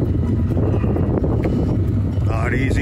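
A sailboat named Osprey motors away from a dock with a dinghy in tow, giving a steady low engine and water rumble under heavy wind buffeting on the microphone, with a brief higher chirp near the end.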